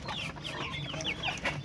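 Roosters and chickens on a Filipino farm cluck in a quick run of short, close calls that repeat steadily and stand alone with no talking.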